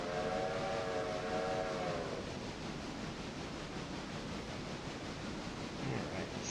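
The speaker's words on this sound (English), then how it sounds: "Here's a whistle." A train whistle in the railroad video game Railroader blows a steady harmonic tone for about two seconds. It then gives way to the loud, continuous rumble of the rolling train.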